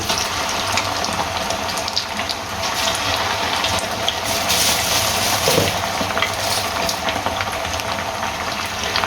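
Coated chicken pieces for Dhaka fried chicken sizzle steadily in hot oil, a dense, continuous crackling hiss with no talk.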